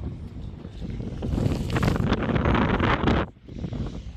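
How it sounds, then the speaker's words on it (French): Strong wind buffets the microphone by the sea in Andalusia, a steady roaring rush with faint surf underneath, dropping briefly near the end. "il y a un peu de vent."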